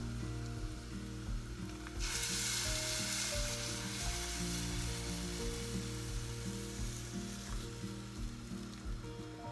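Kadi frying and sizzling in a pan while being stirred, a steady close hiss with a louder burst of sizzle partway through, low background hum underneath, no talking.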